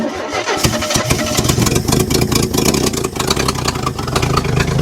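A 1974 AMC Javelin, pulled from trees after more than 30 years, cranks and fires up, then settles into a loud, rough, close engine run with uneven revving.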